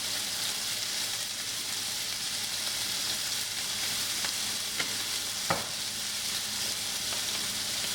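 Chicken breast with garlic, salt and pepper stir-fries in a pan as a constant moderate sizzle, broken by a few brief scrapes of a spatula.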